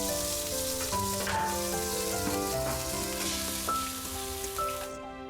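Hot oil sizzles and crackles steadily as food fries in a wok in a Chinese kitchen, a dense, continuous spatter with no voices.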